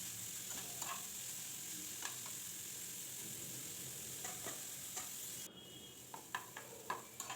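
Carrots and beans stir-fried for egg vegetable chowmein sizzle steadily in a pan, with a utensil scraping and stirring in repeated sharp strokes; the frying quiets partway through as stirring continues.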